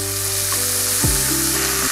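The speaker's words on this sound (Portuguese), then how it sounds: "nossa carne fritou aqui pelo menos 5 minutinhos, já tá fritinha" Meat sizzles steadily in a pan at close range, a loud continuous frying hiss with a brief scrape of stirring partway through.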